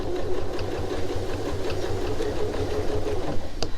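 A sewing machine back stitching and then running forward along the seam of a tote bag, its motor humming in a fast, even rhythm throughout, close and alone with no voices.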